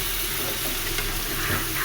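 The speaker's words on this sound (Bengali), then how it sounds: "আর এদিকে রান্না হচ্ছে ইলিশ মাছ, মশলা টশলা দিয়ে একসাথে বসিয়ে দিয়েছি।" Small hilsa fish frying with spices in hot oil, a steady close sizzle with fine crackling and a constant hiss, no voices.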